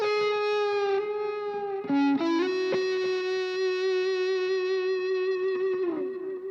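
An electric guitar run through a smooth overdrive with an echo effect sustains one long distorted note. A brief bend and slide sound near the middle, and the note rings on with a rich, echoing tail and no talk.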